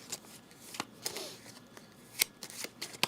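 A deck of board game cards being shuffled at a table, with a handful of quiet, crisp riffles and snaps spread irregularly over a few seconds.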